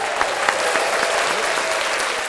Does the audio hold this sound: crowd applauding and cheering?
yes